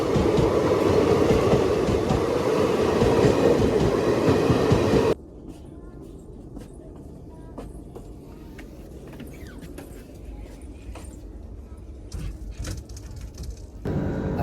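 A passenger train rolling slowly into Katihar station in Bihar after a crossing delay: a loud steady rumble of wheels and carriages that drops abruptly to a quieter interior hum with faint clicks and rattles as it creeps in.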